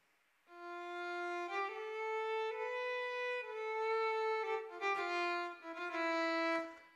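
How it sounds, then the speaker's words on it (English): A SWAM virtual violin played from a ROLI Seaboard keyboard sustains bowed-style notes that glide and shift in pitch, a clear, solo line with slightly halting phrasing and brief gaps between notes. "So some of the stuff will actually sound like I just started rehearsing playing the violin."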